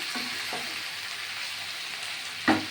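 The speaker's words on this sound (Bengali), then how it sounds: "এই এঁচোরটাকে ভাজা ভাজা করবো" Boiled young jackfruit fries in a pan with a continuous, even sizzle, a few faint stirring taps and one sharp utensil clink near the end.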